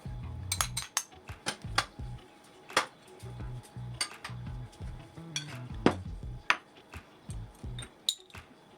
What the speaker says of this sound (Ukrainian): В мисці з'єдную нарізані крабові палички, яйця, огірки, авокадо і зелень.